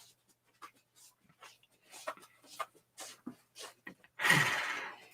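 A dog whimpers and pants close by in a series of short, soft breathy whines and huffs, ending in a louder burst of rough breath or movement.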